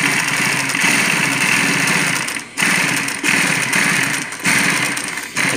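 An industrial sewing machine stitches a thick travel bag handle with heavy thread, giving a loud, fast mechanical rattle in bursts separated by short pauses.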